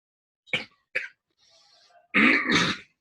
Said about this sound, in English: Okay, I'm just coughing here.